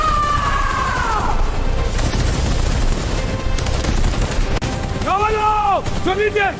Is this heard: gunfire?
yes